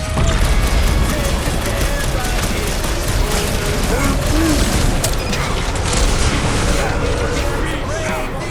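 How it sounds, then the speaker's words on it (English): Explosions and gunfire fill a battle in the video game Guardians of the Galaxy. Loud, continuous blasts layer over mechanical clatter throughout, with no pause in the noise. "Wanna see some fireworks?"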